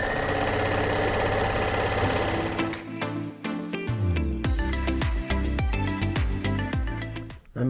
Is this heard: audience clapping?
no